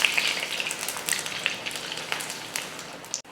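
Dal vada batter sizzles and crackles in hot oil, a dense, steady frying hiss with sharp pops, close and alone.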